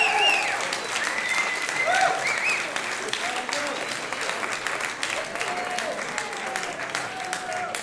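Applause and cheering from an audience at a journalism awards dinner for a winner, steady dense clapping filling the room for several seconds with a few whoops mixed in.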